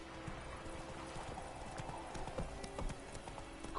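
Roach, Geralt's horse in The Witcher 3: Wild Hunt, moves at a steady run with rapid, rhythmic hoofbeats. Game ambience and sound effects continue underneath at a fairly loud level, and no voices are heard.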